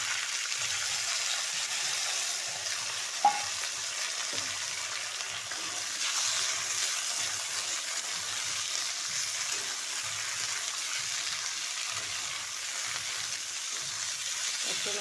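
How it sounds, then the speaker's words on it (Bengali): Drumsticks and potatoes frying in tempered oil give a steady, soft sizzle that runs throughout, with a few faint stirring knocks underneath and no talking. "এবার দিয়ে দেবো আমি সজনে ডাঁটা আর আলুগুলো"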